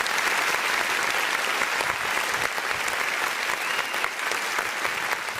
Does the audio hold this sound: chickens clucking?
no